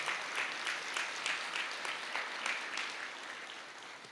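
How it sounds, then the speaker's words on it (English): Crowd at a 2025 Oswego athletic awards ceremony applauding student athletes, a dense, even patter of many clapping hands heard at a moderate distance and tapering slightly toward the end. "a round of applause."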